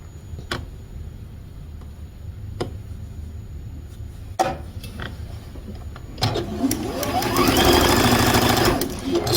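Sewing machine stitching the corners of a quilt block, starting with scattered clicks and short runs, then a sustained, louder burst of fast stitching toward the end.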